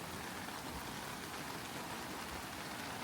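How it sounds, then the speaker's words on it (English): Heavy rain pours steadily at a pine-forest campsite in the Sierra Nevada mountains, a dense continuous hiss with no voices. "have now scrambled back to their RVs because it's pouring"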